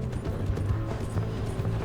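Horse hooves galloping in Red Dead Redemption 2, a steady muffled clip-clop rhythm running under game sounds for a couple of seconds, with no talk over it.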